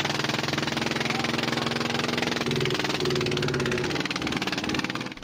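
A fishing boat's engine runs steadily and close by, a continuous mid-pitched drone with a rough, knocking vibration that shifts slightly in tone partway through, with no talk over it.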